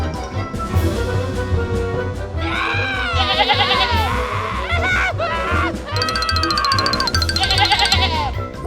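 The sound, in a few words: sheep bleating in a cartoon video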